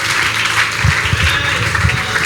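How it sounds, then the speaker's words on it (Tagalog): Congregation clapping during a church worship service, a brief, busy burst of many hands at moderate loudness, with low thumping accents under the clapping and no clear talk. "Minsan pa, malakas sa palakpak para sa ating Panginoon"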